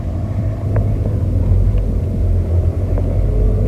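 A car engine rumbles and rises as the driver presses the gas, a deep steady drone swelling slightly in loudness from inside the cabin, with no voices over it.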